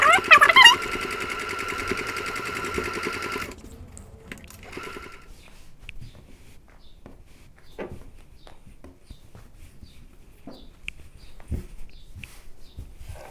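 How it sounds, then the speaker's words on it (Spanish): A sewing machine stitches bias binding onto a collar in a fast, loud, close run lasting a few seconds, then stops, leaving quiet handling clicks and taps. "aseguramos que quede el cuello donde queremos que quede y recién ahí nos largamos a coser el bies"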